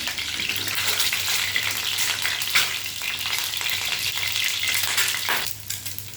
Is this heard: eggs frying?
yes